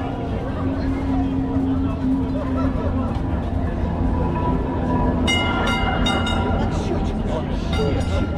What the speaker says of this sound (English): this is one of their little trains that are really famous